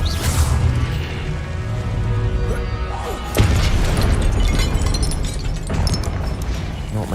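A Confringo fire spell bursts in Hogwarts Legacy, bringing heavy booming explosions and whooshes over a dense, rumbling combat soundscape, with a sharp impact partway through and further blasts following.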